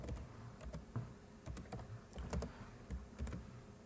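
Typing on a computer keyboard while working in an Excel spreadsheet: a steady, fairly close patter of keystrokes in loose clusters over a low background hum, with no talking.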